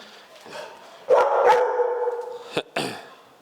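Rottweiler meeting new dogs, with a few sharp barks and yips in short bursts, close by, separated by brief quiet gaps.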